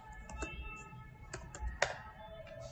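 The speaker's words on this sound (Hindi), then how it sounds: "कीबोर्ड में अगर आप डायरेक्टली 1 प्रेस करोगे तो ऑपेसिटी आपकी 1 हो जाएगी" Computer keyboard keys pressed while working in Photoshop, a few scattered soft clicks and taps, fairly faint and close, with quiet pauses between.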